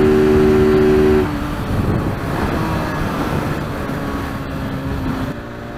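A KTM Duke 390 motorcycle cruising on a highway gives a loud, steady roar of engine and wind rush. A brief humming engine tone opens the clip, and no one speaks.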